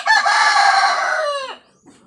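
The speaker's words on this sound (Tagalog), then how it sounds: "ang ingay ng manok" A chicken gives a single loud crow close by, a strained call lasting about a second and a half that breaks off into a short trailing sound, followed by near silence.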